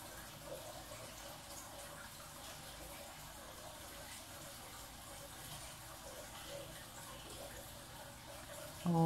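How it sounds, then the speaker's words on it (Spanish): Water falls from a fountain in a continuous, soft rushing wash that holds steady in the background throughout. "es la fuente que se escucha, eso del agua, la caída del agua"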